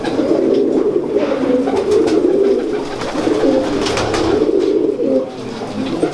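Many pigeons cooing steadily and continuously close by at a pigeon keeper's loft in Lahore, a dense, low, throaty murmur with no talking.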